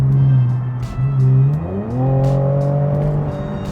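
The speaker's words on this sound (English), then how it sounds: "AAM exhaust sounds so good." An Infiniti Q60 with an AAM exhaust drives close by, its engine droning loudly, dipping briefly, then rising in pitch as it accelerates, with no one talking.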